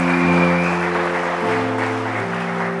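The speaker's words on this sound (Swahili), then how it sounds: "naomba tumpigie makofi mengi." Congregation clapping at a bishop's consecration service in an FPCT church, a dense wash of applause under sustained musical tones, loud and continuous.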